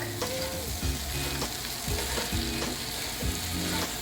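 Feta pasta sizzling and frying in a pan with chili flakes, shaken and stirred, giving a steady close crackle with repeated scraping jolts as the pan moves.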